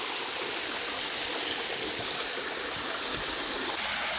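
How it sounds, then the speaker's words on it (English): The 40-meter Paredão waterfall in Serra de Caldas park, Goiás, Brazil, gives a steady, broadband rush of falling water, continuous and even with no voices. "This is Paredão waterfall. It has 40-meter height, scenery, wonderful."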